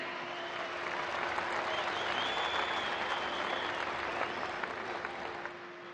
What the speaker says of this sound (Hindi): आप सब तालियों की करतल ध्वनि से माननीय प्रधानमंत्री जी का हार्दिक स्वागत करें।